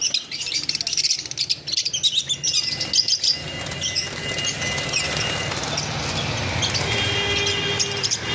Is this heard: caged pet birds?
yes